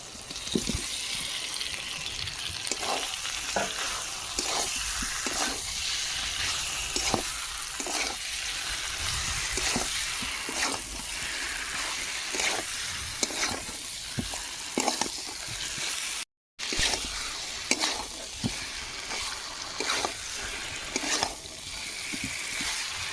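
Fried potatoes sizzle in a spiced masala for Kashmiri aloo dum, with a steady frying hiss broken by regular scraping stirs of a spatula against the pan and a brief dropout near the end.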